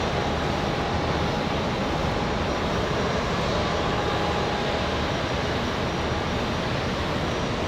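An Embraer E145 regional jet at Raleigh Durham airport on a windy day gives a loud, steady roar with a thin whine running through it, unbroken throughout.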